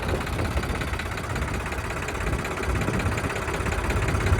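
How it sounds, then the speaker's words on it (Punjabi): A John Deere 3302 tractor engine runs with difficulty on a waterlogged field, giving a steady, close, rumbling drone with a constant level and no talk throughout. "ਇਹ ਜੀ ਵੀ ਔਖਾ ਹੀ ਤੁਰਦਾ ਟਰੈਕਟਰ"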